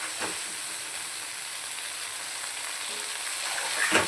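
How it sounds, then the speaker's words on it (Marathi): Coriander and black masala fry in hot oil for a Maharashtrian crab curry with a steady, close, loud sizzle and hiss that continues throughout, broken by a couple of soft stirring scrapes near the start and end. "छानपैकी असं तेलात परतून घ्यायचं आहे."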